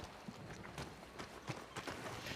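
A horse's hooves clip-clop in an irregular, fairly quick rhythm, faint and somewhat distant, against a soft background.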